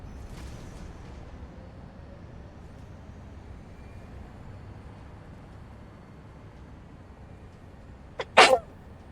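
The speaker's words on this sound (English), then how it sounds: "Oh, that was quite a sneeze." A single sharp human sneeze bursts out near the end after a long stretch of quiet room hum.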